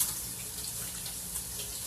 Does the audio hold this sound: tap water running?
yes